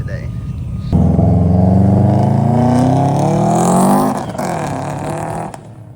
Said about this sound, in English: He just turned that car on.